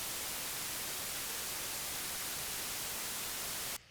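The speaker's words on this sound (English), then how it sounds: "just plug some white noise into it" Steady, loud hiss of white noise from a VCV Rack synthesizer module fills the whole clip, then cuts off abruptly near the end.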